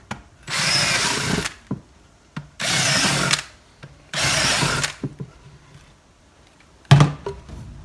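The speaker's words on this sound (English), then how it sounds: "Put that in the drill." A power drill whirs loudly in three sustained bursts, each about a second long, drilling holes in the bottom of a pot, separated by short pauses and light clattering, ending with a sharp knock.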